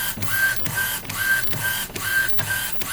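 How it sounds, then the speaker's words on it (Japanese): A compact Japanese-made A3 DTF printer runs a print job, its print head sweeping back and forth in a steady repeating rhythm of whirring passes with brief high electronic tones, close and continuous. "このようにちょっと印刷をしていきます"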